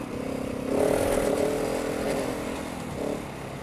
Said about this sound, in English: Get yourself caught out on this bike so easy. Just pick up speed so quick on it.